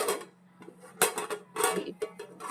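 A steel plate set over a pan as a lid while stuffed chillies roast on low heat, giving a few clattering metal knocks and scrapes in separate bursts, close and fairly loud, with no talking.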